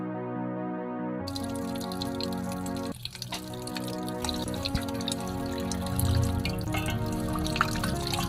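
Raw chicken feet rinsed under a running kitchen tap, with steady water flow and dripping splashes continuing throughout, close and moderately loud, no voices.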